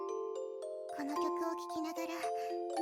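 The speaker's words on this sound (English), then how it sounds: "A cute music box tune began to play." A music box tune plays in the video game Beta Sixdouze after a small device is rung several times: bright plucked chiming notes, a few spaced tones first, then a quicker melody with soft clicks beneath, close and clear.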